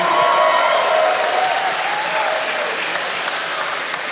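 A crowd at a fight exhibition night claps loudly in a steady burst that gradually thins out over a few seconds, with faint voices underneath.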